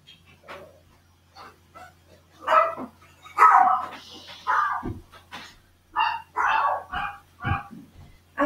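A dog barks indoors in a series of sharp, separate barks and yips, close and fairly loud, with short quiet gaps between them and a faint low hum underneath.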